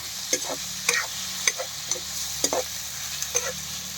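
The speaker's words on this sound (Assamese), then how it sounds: "এতিয়া মাংস ভাজি আছো মই" Pork sizzling steadily in a hot pan while a spatula stirs and scrapes in regular strokes, close by, with no speech.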